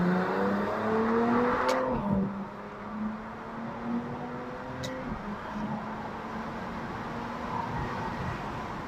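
A BMW 335i with a DKG dual-clutch gearbox launches under launch control, its engine note rising steadily in pitch, then dropping sharply at a quick upshift and climbing again, loud and close throughout with no talking.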